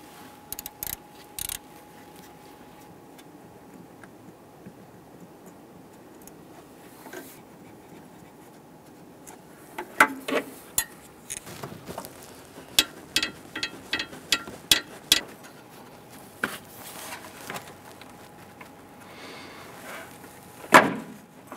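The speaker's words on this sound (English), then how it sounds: "I'm gonna loosen those first, and then I should be able to reach in there with just the socket and spin them out" An Allen wrench and socket loosen bolts on the AC compressor of a 2008-2013 Nissan Rogue, with quiet stretches broken by clusters of sharp metallic ratchet clicks and tool knocks up close.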